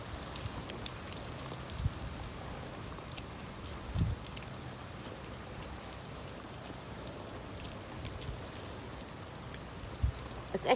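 Steady rain falls on a garden where cilantro and rosemary are being harvested, a soft, even hiss of drops throughout with a few faint knocks, quiet and continuous.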